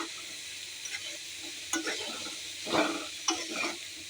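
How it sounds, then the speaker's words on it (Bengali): Banana stem curry with spices being stirred in a pan over a soft steady sizzle, with a few brief scraping strokes of the spoon, one fuller stir near the end. "একটু নাড়াচাড়া করে একটু চাপা দেবো।"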